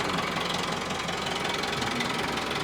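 A tractor engine runs steadily in third gear while hauling a trolley, giving a continuous, loud, knocking mechanical drone that stays close throughout with no talking.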